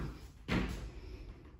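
A mobile home bathroom door gives a single soft thud as it swings shut, heard against a steady background hiss with no one speaking.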